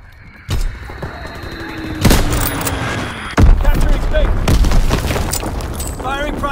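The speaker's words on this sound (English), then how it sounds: "Dropping a gun bomb." Gun bomb dropped in a video game, a series of loud booming gunfire explosions at roughly half-second, two and three-and-a-half seconds, followed by sustained rumbling blasts while radio voices speak.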